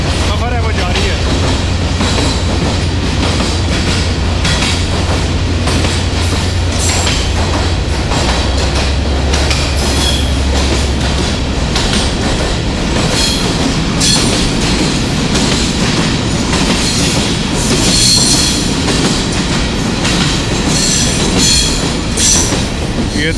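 Passenger train on the Jand line in Pakistan running through an 1890s tunnel, heard from the guard van: a steady, loud rumble with a low drone, wheel clatter and occasional squeal throughout, sometimes with faint voices.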